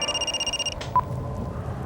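Telephone ringing with a rapid electronic trill in repeated bursts for under a second, then stopping, followed by a single short beep; fairly clear, no talk.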